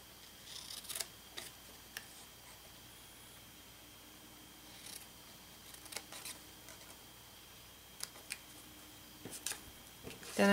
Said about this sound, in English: So I'm going to cut my skull paper at a bit of an angle over here.